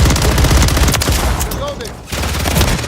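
Automatic and burst gunfire in the video game Warzone rattles continuously and loudly through the whole stretch, briefly dipping near the end before resuming, with game voice chatter mixed underneath.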